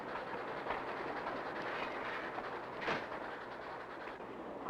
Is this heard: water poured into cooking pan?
no